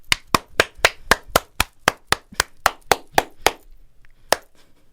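A run of about fourteen sharp, evenly spaced hand claps, loud and close with no talking, followed by a brief pause and one final clap.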